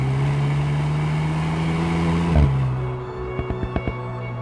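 An Alpine A110 is driven hard on twisty little roads. Its engine holds a steady drone, then drops off as the car eases, followed by a few soft thuds as it rolls on.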